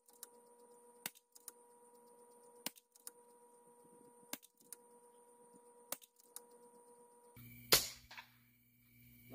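Rifle with a tensioned carbon fiber barrel fired at a 58-yard target, giving about six sharp, evenly spaced shots over a faint hum, then a louder clatter near the end.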